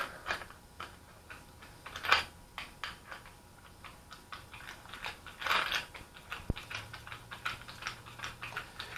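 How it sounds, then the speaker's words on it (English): Ratcheting clicks and metallic ticks from a tool spinning an Allen bolt out of a motorcycle fork during a fork seal replacement, close and fairly quiet, in irregular bursts with a couple of louder clacks and no talk. "I spun that Allen bolt out of there"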